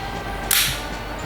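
A WE M712 airsoft pistol fires a single sharp, snappy shot in a quiet room; the crack is brief and moderately loud with no other activity around it.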